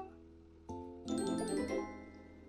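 A doorbell in the Roblox game Work at a Pizza Place rings a two-tone ding-dong, clear chimes that ring out and fade, with no talking over them.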